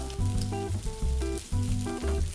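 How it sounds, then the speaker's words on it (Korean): Grated potato rösti frying in a hot pan gives a soft steady sizzle beneath a bright tonal melody of background music. "천천히 치면서 팬에 넣어주는데 팬에 열기가 있기 때문에 손 조심하시고요"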